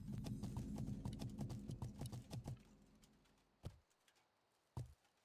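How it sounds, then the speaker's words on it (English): Horse mount galloping in World of Warcraft, a quick run of hoofbeats that fades out, followed by two isolated louder thuds like landings after jumps. "You ever get tired of hearing the galloping of your horse that you just jump nonstop?"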